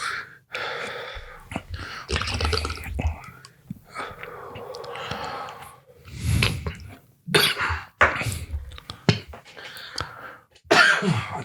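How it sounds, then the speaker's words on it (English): Muffled coughs and gasps come in irregular bursts, mixed with whispering voices and heavy breathing, close by. "You're trying not to cough."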